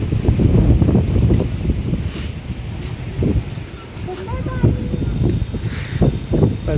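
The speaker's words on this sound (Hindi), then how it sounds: "वीडियो में भी हवा की आवाज़ आप सुन सकते हो बहुत क्लियरली।" Strong gusts buffet the microphone at a scenic spot near Rishikesh during a rafting trip, a loud continuous low roar that swells and eases, with people talking through it.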